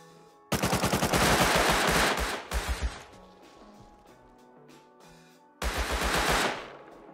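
Thompson submachine gun in the Rust video game fires two loud, rapid automatic bursts separated by a quieter gap, with a brief second volley just after the first and another sustained burst near the end.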